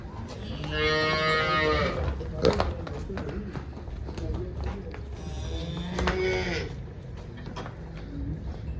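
Two long, loud cow moos, one near the start and another about midway, with background chatter and farmyard noise in between.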